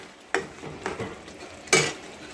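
Pointed gourd curry (tel potol) dusted with roasted spice powder is stirred in a pan, giving three quick scraping strokes of a spoon against the metal, close and fairly quiet.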